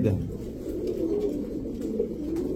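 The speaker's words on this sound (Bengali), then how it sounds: "এগুলো হচ্ছে ছাড়াছাড়ি করা কবুতর।" Pigeons being sold at a market coo in low, rolling murmurs throughout, steady and close with no talk.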